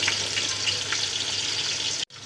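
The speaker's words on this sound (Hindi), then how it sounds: "सबसे पहले इसके अंदर हम प्याज डालेंगे। ये हमने प्याज काटी थी, इसको गोल्डन करते हैं" Sliced onions frying in hot oil, giving a continuous dense sizzle close up that holds steady, then cuts out abruptly for a moment near the end before resuming.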